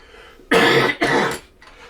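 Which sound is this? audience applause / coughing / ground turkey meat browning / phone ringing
coughing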